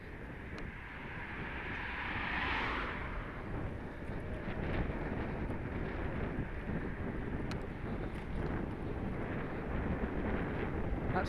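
Strong headwind buffets the microphone while riding a Halfords Carrera e-bike on flat ground, a steady, loud, broadband roar that swells slightly early on and continues without a break, with no talking.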